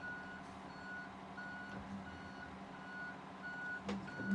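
Reversing beeps from a truck in a European trucking video game, a steady series of evenly spaced tones over a constant engine drone, with a brief louder thump near the end.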